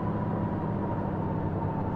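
Car engine in the survival game DayZ, a steady low droning rumble with a faint tonal hum, running continuously and fairly quiet with no voices.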